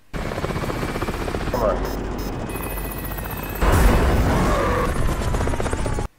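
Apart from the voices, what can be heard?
helicopter in a film, its side exploding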